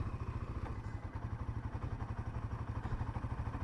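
Royal Enfield Himalayan motorcycle engine lugging in low gear at low-end torque with no throttle, a steady close thumping exhaust pulse throughout.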